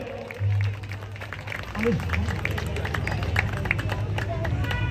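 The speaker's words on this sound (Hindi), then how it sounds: "तालियों के साथ आप हमारे कवियों, युवा कवियों का अभिवादन करेंगे।" An audience at a large Hindu gathering applauds young poets, a broad wash of clapping that swells after a short pause and carries on steadily, with a voice speaking over it.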